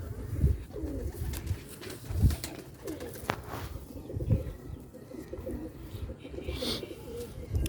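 Sialkoti black-faced pigeons cooing close by in repeated soft, low, throaty phrases spaced about every two seconds, with faint chirps and light rustling between the coos.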